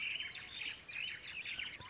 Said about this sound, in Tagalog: Ang dami ditong doon ng ibon. Ang ingay.